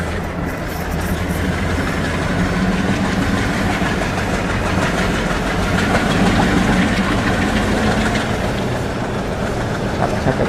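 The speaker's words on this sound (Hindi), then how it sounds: "हमारी ये पुरानी एल्को लोकोमोटिव वाली साधारण सी ट्रेन" An old ALCO diesel locomotive hauls an ordinary passenger train on the line toward Ferozepur: a loud, continuous engine drone mixed with rolling wheel rumble and faint rhythmic clatter, with no talk.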